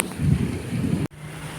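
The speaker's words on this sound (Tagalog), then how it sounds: "Medyo mahangin pa mga idol." Gusting wind buffeting the microphone outdoors during mango picking, a low rumbling roar that holds for about a second before cutting off abruptly, leaving a quieter hum behind.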